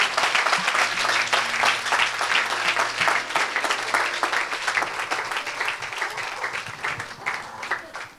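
A church congregation breaks into sustained, dense applause, loud and close, with a few voices rising under the clapping before it fades toward the end.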